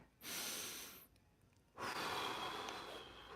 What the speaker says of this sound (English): taking a couple of nice, slow, big, deep breaths.